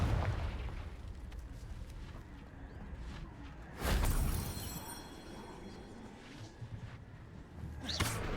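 Confringo fire spell explosion in the Hogwarts Legacy video game, a sharp burst that stands out above a steady rumbling game background, followed by lighter pops and a second burst near the end, with no speech.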